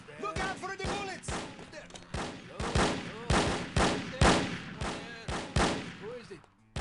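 Video game gunfire rings out in a steady series of around ten sharp, punchy shots at roughly even intervals, moderately loud, with a voice speaking faintly between them early on.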